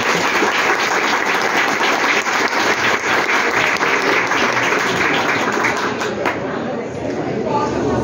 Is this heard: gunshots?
no